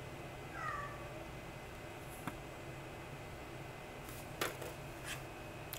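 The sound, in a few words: cat meowing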